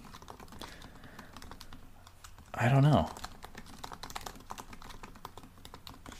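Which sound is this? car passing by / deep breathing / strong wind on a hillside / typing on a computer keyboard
typing on a computer keyboard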